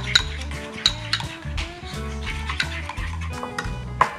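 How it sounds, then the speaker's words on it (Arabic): Pesto being stirred into cream cheese in a bowl, with rhythmic repeated scraping and clinking of a utensil against the dish, close and clear, with no voices. "اخذنا بيستو خلطنا فيه"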